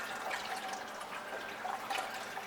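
A Sawyer Mini water filter bag being filled in a water source indoors by a counter, giving a soft, steady trickle and gurgle with faint drips throughout.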